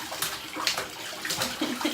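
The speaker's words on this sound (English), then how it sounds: "I've got the 2 youngest ones sitting here in the bathtub" Two young children sit in a bathtub, making close splashing and sloshing water sounds in uneven bursts, with no talking.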